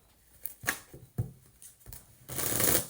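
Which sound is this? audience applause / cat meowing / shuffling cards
shuffling cards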